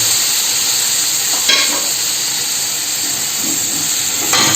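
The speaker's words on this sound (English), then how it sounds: "Add it in here. You can hear it sizzle out there." Water poured into a hot pan to deglaze it after cooking chicken thighs sizzles in a loud continuous hiss, with brief louder bursts of spitting steam near the start and again at the end.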